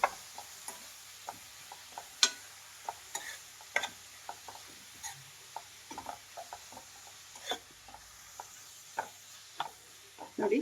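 Ground amla (Indian gooseberry) being stirred in a pan for nellikai chitranna, with soft scattered scrapes and clicks of the spoon against the pan, quiet and irregular, no voices.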